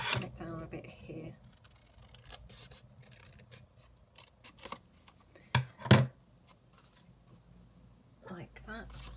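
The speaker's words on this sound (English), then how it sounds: "So I'll just trim it down slightly more." Scissors trimming paper down to size while making a junk journal from an altered book, giving short irregular snips and rustles near the mic, with a louder cut near the end and speech mixed in throughout.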